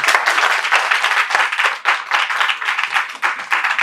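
A crowd at a political gathering breaks into applause on cue: loud, dense clapping with a pulsing, uneven rhythm that swells and dips, continuing without talk.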